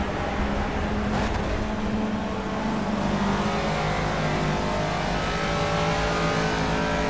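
Race car engine in the Project Cars racing game, with a Caterham droning and revving steadily up and down under a constant loud roar that runs without a break.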